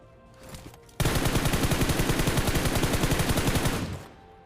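A sustained burst of automatic gunfire from the battle royale game PUBG rattles for about three seconds in rapid, even shots, then cuts off, leaving quiet background.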